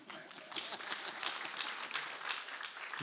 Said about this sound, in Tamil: கஷ்டப்பட்டு கை தட்டிருக்காங்க